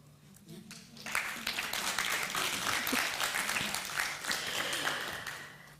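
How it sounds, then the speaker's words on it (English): Applause from an audience at a privacy symposium in Africa, breaking out after a second of quiet and holding as a steady, moderately loud spread of clapping until the end. "Shouldn't we clap for them?"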